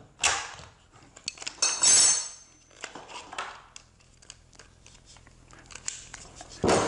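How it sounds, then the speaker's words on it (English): Makita RD1101 D-handle router flipped over on a bench: a series of close plastic-and-metal clunks, scrapes and rattles, irregular and fairly loud, with a short sharp knock at the end. "I'm going to flip the router over"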